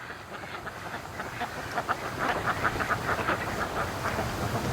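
A flock of ducks quacking outdoors in cold, sleety fall weather, a rapid chattering series of calls that grows louder and denser midway, moderately close, with no talk over it.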